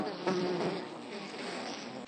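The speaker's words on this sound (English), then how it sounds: "I have never watched so many bees." Many bees buzz together in a continuous droning hum, close and steady, with individual insects swelling briefly louder as they pass near.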